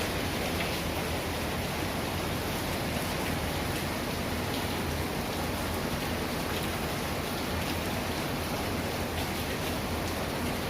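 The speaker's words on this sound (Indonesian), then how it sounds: "saya rasa hujan sangat merata ya, baik di DKI Jakarta maupun di daerah yang lainnya ya pastinya" Morning rain falls in a dense, even hiss that holds steady throughout, a broad wash of drops on surfaces with no voices or other sounds standing out.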